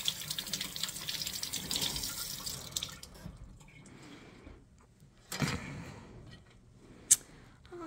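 Tap water runs into a sink while a beef roast bought at a market gets a quick rinse before going into a slow cooker; a steady moderate splash, with a few sharper drips and bursts near the end.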